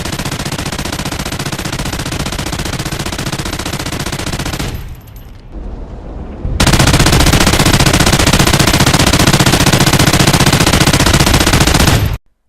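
The Chain SAW light machine gun in Call of Duty Ghosts fires long sustained automatic bursts at medium range, loud and continuous, with a short break before a second, even louder stream of rapid shots.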